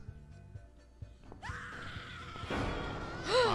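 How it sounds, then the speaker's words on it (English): A woman screams in the horror video game The Cat Lady, a distant wail that swells into a loud, sustained cry over dull thuds and ambient game noise. "Let's go see if we can help the screaming lady."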